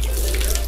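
Water pours and splashes steadily while an animal is washed and brushed, a brief, close, running-water rush over a low hum.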